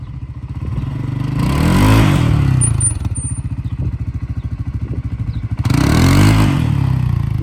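A CFMOTO CForce 600 ATV engine revving hard in low gear, loud and close, with two strong surges of acceleration separated by a steadier chugging stretch and some mechanical clatter.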